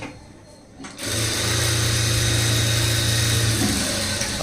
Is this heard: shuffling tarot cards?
no